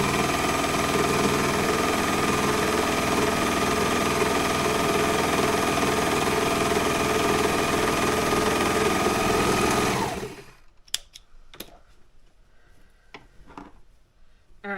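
A serger sewing machine stitches a seam with a loud, steady mechanical whir for about ten seconds, then stops abruptly, leaving a few small handling clicks and taps.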